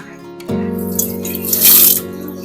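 Water pours into a pot of masala for chicken mandi, a steady splashing stream that starts abruptly and swells briefly before easing, close by and alone.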